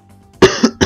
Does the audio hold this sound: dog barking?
no